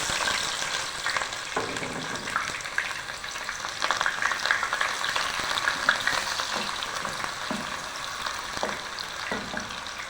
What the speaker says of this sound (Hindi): यहाँ पर तेल अच्छे तरीके से गर्म हो गया है, तो इसके अंदर मैं ये प्याज ऐड कर देती हूँ।